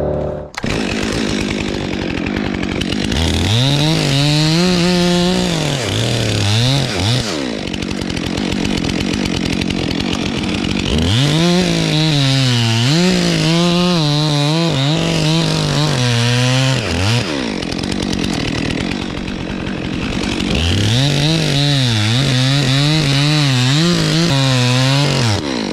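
Cordless Stihl MS 400c chainsaw bucking felled trees into chunks of about 6 to 10 inches, with three long loud cuts whose motor pitch drops under load and rises between cuts, no talking.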